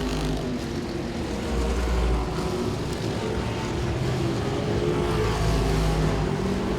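Modified race cars circling Langley Speedway, a continuous loud engine roar with a steady broad rumble as the field runs strung out around the oval.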